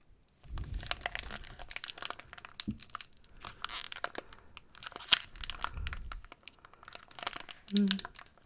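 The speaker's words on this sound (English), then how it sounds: "Brace for serious crinkle sounds" A Magic card booster pack wrapper is crinkled and torn open up close, a long run of sharp, irregular crackling and rustling bursts with a few soft breaths and quiet mouth sounds between them.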